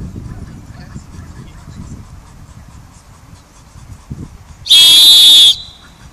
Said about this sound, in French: Tu vas siffler en même temps.